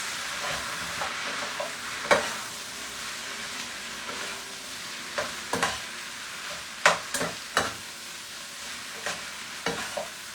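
Shrimp lo mein stir-fried in a pan with soy sauce and bouillon, a steady close sizzle broken by repeated sharp scraping clanks of tossing and stirring, with no talk.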